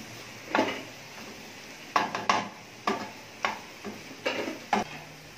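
Minced mutton keema cooked in ghee on a flat tawa, stirred with repeated scraping knocks and clinks of a metal spatula at an uneven pace over a faint background sizzle, with no voices.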